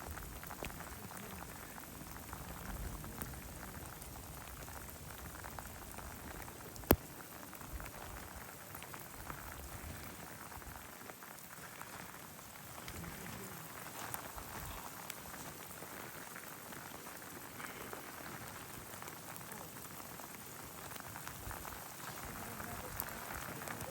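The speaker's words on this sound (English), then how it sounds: "Rain is getting worse and worse." Heavy rain patters steadily on surfaces near the volcanic eruption site in Iceland, a continuous dense hiss with scattered nearby drop impacts and one sharp tap partway through.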